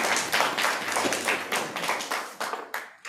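An audience at a magic show in India claps in uneven bursts, the claps distinct and fairly close, tapering toward the end.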